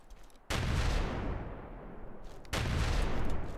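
Grenade blasts in the World War Polygon shooter game, two sudden loud booms about two seconds apart, each onset followed by a sustained rumbling roar, with no talking.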